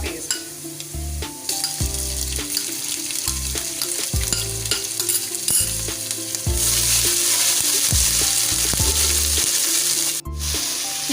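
Garlic ginger paste fries in a pan with browned onions for a kadhi pakora base, giving a steady loud sizzle broken by clattering stirring strokes. The sizzle swells stronger toward the end.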